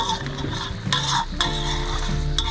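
Nam Prik Ong, a Northern Thai spicy chili dipping sauce, bubbles and sizzles in a pan, with repeated scraping stirs and utensil knocks close by, no voices.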